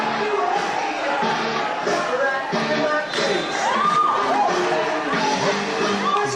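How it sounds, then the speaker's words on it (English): A wrestling crowd cheers, whoops and shouts in celebration at an indoor tag team event, a dense, loud and sustained roar with scattered high yells and a commentator talking over it. "The crowd loving every minute of it."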